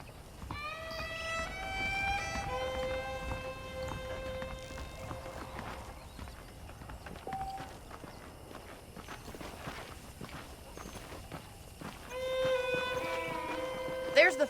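Saddled horses clip-clopping at a walk in Red Dead Redemption, steady hoof beats on a dirt street under ongoing conversation, fairly quiet and even in rhythm.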